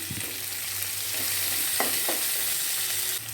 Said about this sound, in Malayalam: നന്നായി ഒന്ന് വഴണ്ടി വരണം എല്ലാം കൂടെ എല്ലാം മാറി നന്നായി വഴണ്ടി വന്നതിന് ശേഷം നമുക്ക് പൊടികൾ ചേർത്ത് കൊടുക്കാം